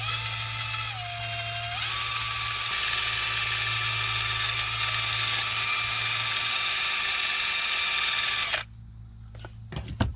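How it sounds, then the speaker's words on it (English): Wire wheel on a power tool brushing the front brake hardware of a Ford E250: a loud, steady high-pitched whine running for several seconds after a brief spin-up, then stopping sharply, followed by a few small clanks. "Get out the wire wheel, go across it a couple times"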